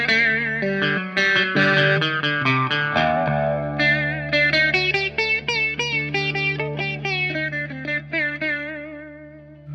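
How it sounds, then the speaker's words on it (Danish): An electric sitar guitar with a buzzing sitar-style bridge plays a run of notes through effects, ringing with a nasal twang, chorus and distortion; a quick flurry gives way to sustained, overlapping notes that slowly fade. "men den har sådan en mærkelig bridge her, der får den til at opføre sig som en sitar"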